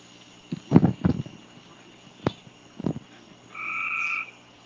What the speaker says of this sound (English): those fucking Carolina frogs never shut the fuck up